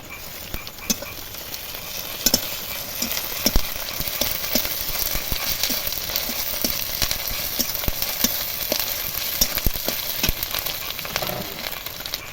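Ginger-cumin paste sizzles in a pan with fried onion and garlic while it is stirred, making a continuous hiss broken by sharp scraping taps from the spoon.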